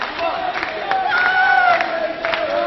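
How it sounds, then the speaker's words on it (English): A crowd at a mixed-team dodgeball match between England and Austria cheers and shouts steadily, with whoops and chanting under continuous loud noise. "The crowd here, massively behind Austria."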